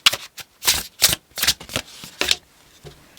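Tarot cards are shuffled by hand in a series of quick, crisp riffling bursts with short pauses between them, close and fairly loud with no talk.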